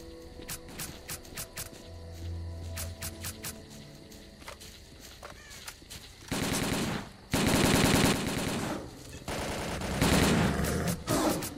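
Gunfire in the video game S.T.A.L.K.E.R.: Call of Pripyat: scattered shots and footsteps at first, then sustained automatic bursts that swell into dense, loud fusillades in the second half.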